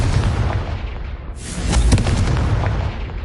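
A Confringo fire spell blasts in Hogwarts Legacy on PS5, a loud booming explosion that bursts midway and rumbles on through the rest of the moment.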